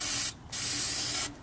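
Two long hissing bursts of aerosol spray into a Ford Mustang GT engine, each about a second, with a short gap between them, loud and close.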